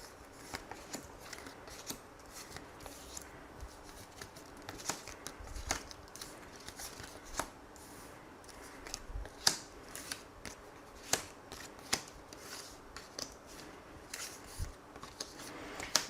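Tarot cards are shuffled close and softly, with repeated brief riffles and taps in an uneven rhythm over a quiet room and no talk.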